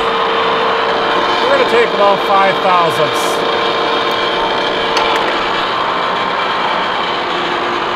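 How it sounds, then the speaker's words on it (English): A horizontal boring mill cuts a heat exchanger plate with the spindle slowed to 120 RPM, giving a steady, loud machining drone with a squealing, chattering cut. Someone speaks briefly over it. "I'm gonna slow that spindle speed down. All right, I went from 220 RPM down to 120."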